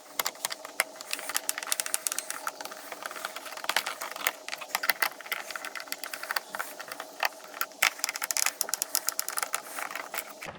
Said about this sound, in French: on va venir retirer donc ce petit mécanisme donc à l'aide d'une clé Torx de taille 8